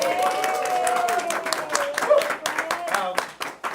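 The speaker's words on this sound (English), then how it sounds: "A round of applause." Applause from a seminar audience, scattered clapping heard close and fairly loud, mixed with speech and thinning out toward the end.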